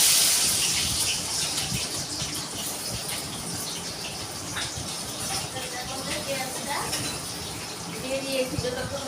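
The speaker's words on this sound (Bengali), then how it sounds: "তেলটার মধ্যে এই পেঁয়াজটা দিয়ে দিচ্ছি।" Chopped onion dropped into hot mustard oil starts with a loud hissing sizzle that settles into a softer, steady crackle and bubbling, with some faint clatter near the end.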